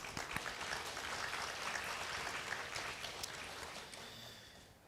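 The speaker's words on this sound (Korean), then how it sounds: "이 시간에 모두 영광의 박수 한번 올려드리겠습니다" A church congregation at a Korean university worship service gives a round of applause, a broad wash of clapping that holds steady and then tapers off slightly near the end.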